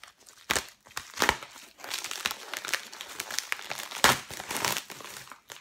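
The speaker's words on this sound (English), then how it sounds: "Now I'm gonna open up the bag." A bubble wrap mailer bag is torn open by hand, giving a steady run of close, loud crinkling and ripping plastic with sharper bursts at a few points, and no voice over it.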